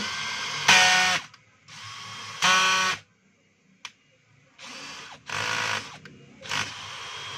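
A DeWalt DCD777 cordless drill drives a screw in several whirring bursts of a few seconds each, separated by short pauses and one brief click, loud and close with no talking.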